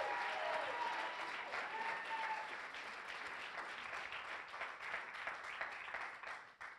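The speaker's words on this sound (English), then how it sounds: "Give God a hand clap for that right there." Congregation in a church service clapping together, a dense sustained round of applause from many hands that fades slightly toward the end, heard from a distance.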